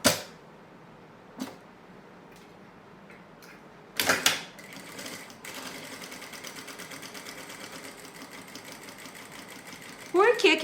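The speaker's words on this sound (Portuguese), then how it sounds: "Pra costurar agora a minha peça, eu vou diminuir o ponto da minha máquina" A domestic sewing machine stitches fabric for a small zippered cosmetic pouch. A few sharp clicks come first, then a steady, close whirring run of stitching from midway on, with someone speaking in Portuguese.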